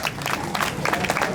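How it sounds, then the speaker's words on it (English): Audience clapping at an evening Maasai show at a Zanzibar beach resort, a dense, steady patter of many hands close by with faint crowd noise mixed in. "Yes, applause again, ladies and gentlemen, for the Messiah."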